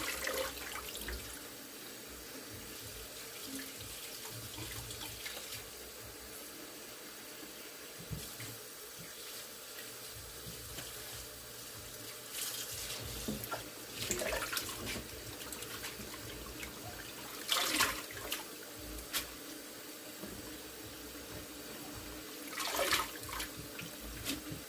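Tap water runs steadily into a kitchen sink while collard greens are washed, a continuous close hiss and splash with brief louder surges, no talking.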